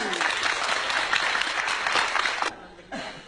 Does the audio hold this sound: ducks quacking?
no